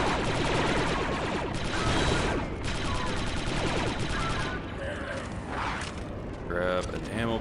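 Rapid blaster gunfire from the Star Wars: Republic Commando video game, a dense, loud, continuous barrage of overlapping shots with a brief voice near the end.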